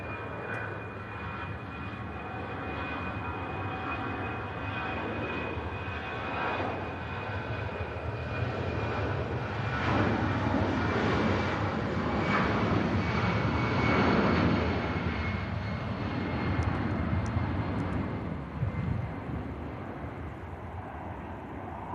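A Brussels Airlines Airbus A319 departs Manchester runway 05 left with a steady, broad jet roar that swells toward the middle and holds strong for about twenty seconds, no voices over it.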